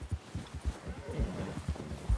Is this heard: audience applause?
no